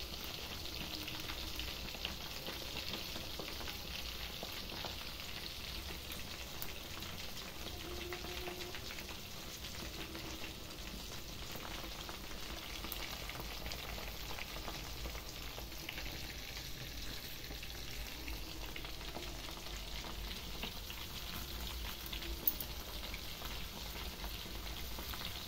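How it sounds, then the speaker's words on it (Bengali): Chicken pieces fry in hot oil in a pan over a gas stove, giving a steady, continuous sizzle and crackle at close range with no voices. "এখানে কটা আমি ছেঁকে নিচ্ছি"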